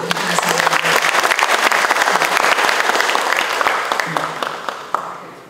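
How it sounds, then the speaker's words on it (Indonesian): An indoor audience at an official award ceremony in Jakarta claps loudly with a dense, sustained burst of applause that fades gradually toward the end, punctuated by a few last claps. "Tepuk tangan untuk kita semua."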